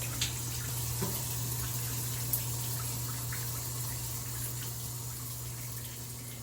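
Shower water running steadily while hair is washed, a constant close hiss of spray with a low hum beneath and a few faint knocks.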